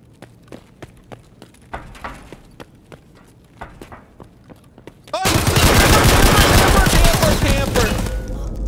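Gunfire in the Escape from Tarkov video game: a run of sharp separate shots in the first half, then a dense sustained burst of loud firing that fills the rest, with no talk over it.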